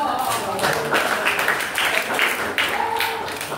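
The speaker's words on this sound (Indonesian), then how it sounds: "Kasih tepuk tangan dulu." A seminar audience bursts into a round of clapping, fairly close and lively, with voices calling out over the busy hand claps throughout.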